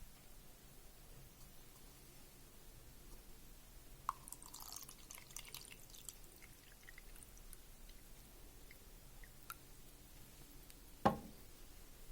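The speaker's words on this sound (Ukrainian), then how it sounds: "Так, залили води." Water is poured into a small gadget from an Aliexpress parcel. It comes through as faint, scattered trickles and drips in a quiet room, with a brief sharper splash near the end.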